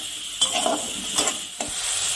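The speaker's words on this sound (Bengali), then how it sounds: "এবার টমেটোটাকে আরেকটু ভেজে নিব।" Chopped tomatoes with a pinch of salt frying quietly in a pan, a soft steady sizzle broken by a few scraping stirs of a spoon against the pan.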